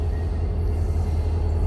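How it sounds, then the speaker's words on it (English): A Norfolk & Western steam locomotive train crosses a bridge, a brief, loud, steady low rumble heard close up without any talk. "train's getting ready to go over this bridge"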